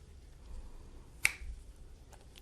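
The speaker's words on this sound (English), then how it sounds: "All to do is snap my fingers like this, and it comes to the top." A single sharp finger snap from a magician performing a close-up trick, crisp and near, standing alone over a quiet room.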